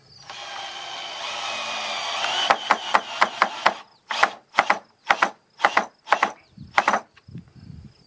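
A drill driver sets screws into a wooden gate brace: a sustained whirring run at first, then a rapid series of about a dozen short, sharp bursts with brief gaps, close and fairly loud with no talk.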